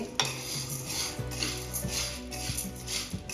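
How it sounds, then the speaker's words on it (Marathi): Dry sago pearls (sabudana) roast in a pan as a spoon stirs them, with repeated light metallic clinks and scrapes over a faint, soft rustle, fairly quiet and close. "आता आपल्याला छान दोन ते तीन मिनटं हा साबुदाणा फुलेपर्यंत भाजून घ्यायचा आहे"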